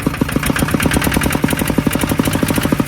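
A small 14-horsepower Kubota ZT140 diesel engine on a well-drilling rig revs hard with a rapid, steady chugging pulse, loud and close, with no voices.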